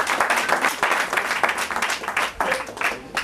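Wedding guests at a customary marriage ceremony applaud in a steady, moderately loud burst of clapping that runs throughout with a few uneven swells, no voices standing out.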